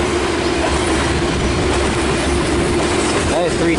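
A train rolls steadily past a railway crossing on a windy day, a continuous close rumble of rail cars with a brief squeal of wheels near the end; faint voice-like sounds may sit under the noise.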